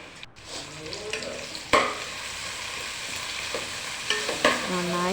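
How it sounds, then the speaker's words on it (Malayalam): Onions sizzle in a hot pan for a chicken roast while a spoon stirs them, soft steady frying with a few sharp scrapes and clatters against the pan, heard close up with no talking. "അപ്പോൾ നമ്മളിതിലേക്ക് ഉള്ളി ആഡ് ചെയ്തിട്ടുണ്ട്. നന്നായിട്ട് ഇളക്കി കൊടുക്കണം കേട്ടോ."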